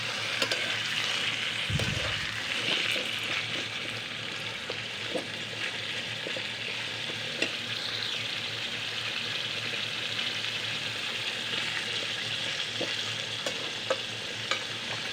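Raw pumpkin pieces stir-frying in a pan, a steady sizzle broken by repeated scraping and stirring knocks from a utensil, close and moderately loud, without voices.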